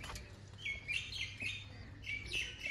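Sialkoti pigeons and their chicks on a rooftop, faint, high repeated chirps and calls in short clusters over a low, quiet background hum.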